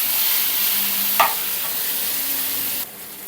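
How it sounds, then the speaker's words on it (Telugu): Tomatoes being stirred into a sizzling egg curry masala in a pan make a steady frying hiss, with a sharp scrape of the spoon midway before the sizzle drops away near the end. "తర్వాత టొమాటోస్ ఇందులో వేసుకోవాలి. వేసుకొని వీటిని కూడా మంచిగా"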